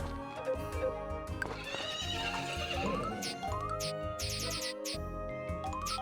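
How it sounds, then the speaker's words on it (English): A horse in the farming video game Story of Seasons: Friends of Mineral Town gives a loud whinny alongside clip-clopping hooves and bright game chimes, with no speech. "Hey, horsey."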